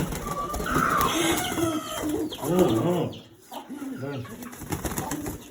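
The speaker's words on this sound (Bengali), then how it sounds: "সিরাজি কবুতর" Sirazi pigeons coo in a flock with low, throaty, repeated calls and some clucking-like sounds, close and fairly loud, with a voice briefly making short sounds among them.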